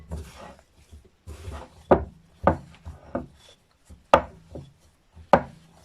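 Bread dough for pilipit kneaded by hand, with irregular soft thumps and slaps as the dough is pressed and turned on a surface, separated by short quiet gaps.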